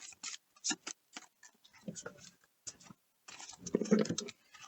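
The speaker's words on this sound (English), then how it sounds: "these cards are really long, so they're kind of challenging to shuffle" Long oracle cards are shuffled by hand in faint, irregular bursts of soft papery slaps and clicks, some quick and scattered, ending in a fuller riffling flurry near the close; no talk is heard.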